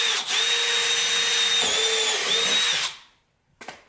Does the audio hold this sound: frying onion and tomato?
no